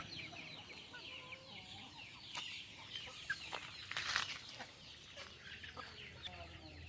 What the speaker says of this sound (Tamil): எப்படி கொத்தி கொத்தி சாப்பிட்றாங்க பாருங்கள்.